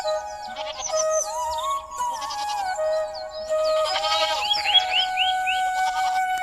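Goats bleat as a story sound effect, several wavering cries overlapping a sustained musical tone, with high chimes and bird-like chirps scattered through and a busier burst of bleats toward the end.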